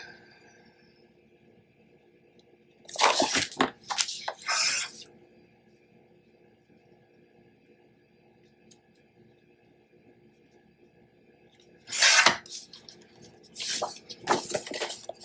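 A paper trimmer slicing a paper cover, heard as two sharp bursts of scraping, swishing cuts separated by quiet, each lasting a couple of seconds and close by.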